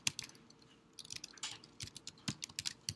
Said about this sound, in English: I'll just type.